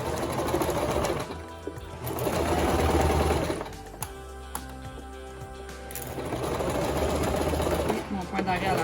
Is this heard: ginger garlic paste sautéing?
no